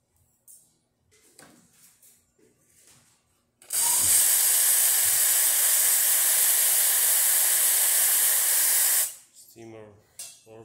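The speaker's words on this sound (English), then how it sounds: "Steamer works perfect too" The steam wand on a Rocket Espresso Milano machine lets out a loud, steady hiss lasting about five seconds, then cuts off. Soft handling noises and a few words of speech come before and after it.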